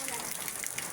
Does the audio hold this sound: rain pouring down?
yes